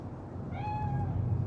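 A single cat meows once in a short, rising-then-falling cry, close and clear over a low background hum, inside the Cyberpunk 2077 video game.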